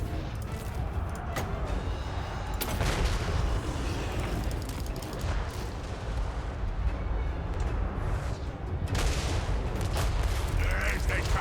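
Cannon blasts and gunfire in a Warhammer video game battle, a dense continuous roar of booms and crackling shots with sharper bursts throughout, loud and constant.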